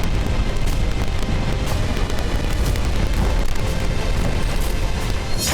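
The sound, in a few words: explosions at a Russian oil refinery after missile strikes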